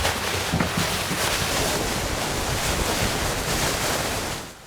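Strong wind roars at sea during a sailboat race, a dense steady rush of wind buffeting and water noise that fills the clip and drops off abruptly at the end.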